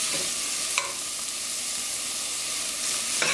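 Vegetables sauteing in oil in a pan for tomato and roasted red pepper soup, a steady, close sizzle with a couple of brief stirring scrapes and no voices.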